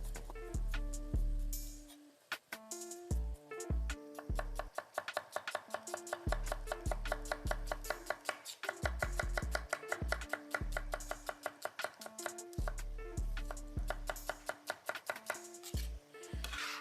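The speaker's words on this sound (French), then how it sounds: "Coupez les légumes" Vegetables being chopped finely with a knife on a board for a Hungarian-style vegetarian ratatouille: rapid, steady knife strikes in quick bursts with brief pauses, close and clear, no talking.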